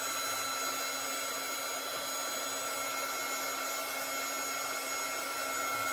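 A high-heat embossing heat tool blows hot air steadily to melt embossing powder on a greeting card, a constant close whooshing hum with no pauses.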